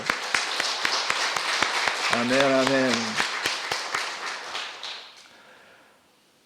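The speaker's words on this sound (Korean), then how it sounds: "하나님께 영광의 박수를 드리겠습니다" Church congregation clapping during a Sunday worship service, a sustained, dense burst of applause that holds steady before fading out, with voices calling out briefly over it.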